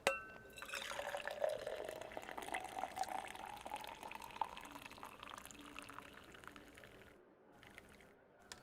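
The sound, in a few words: pouring coffee into a cup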